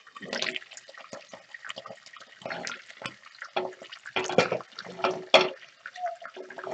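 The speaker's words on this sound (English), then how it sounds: "The prawn shells are quite wet. They're just spitting like crazy." Wet prawn shells spitting and crackling in hot oil in a shallow frying pan, a dense run of sharp sizzling bursts, close and fairly loud, with no talking.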